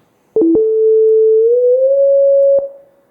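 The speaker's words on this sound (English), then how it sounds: "So a sine wave" A pure sine wave tone holds one steady pitch, loud and alone for about two seconds, its pitch gliding slightly upward partway through, with brief clicks as it starts and stops.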